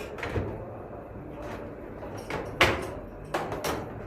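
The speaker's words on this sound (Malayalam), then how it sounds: "ഡോർ തുറക്കുന്ന വിധം ഒന്ന് പ്രസ് ചെയ്ത് താഴേക്ക് പിടിച്ചു കഴിഞ്ഞാൽ ഇത് ഈസി ആയിട്ട് തുറന്നു വരും" A Kerala election official opens the door of an EVM control unit by pressing it and pulling it downward, giving a few quiet, close plastic clicks and clunks spread over several seconds.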